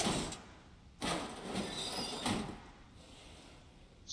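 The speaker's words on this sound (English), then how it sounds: "We should really oil up that drawer. It was pretty squeaky." Squeaky drawer opening in the video game Resident Evil 7, a drawn-out scraping creak in several surges with a thump at the start, moderately loud and alone without talking.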